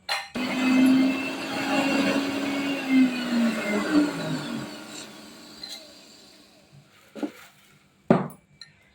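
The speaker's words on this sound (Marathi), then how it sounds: "आज मिक्सरवरतीच आपण करणार आहोत" An electric kitchen mixer grinds onion, garlic and spices for a village-style kanda lasun masala, a loud whirring motor hum that runs for about four seconds and then dies away, followed by a couple of sharp clinks from the jar.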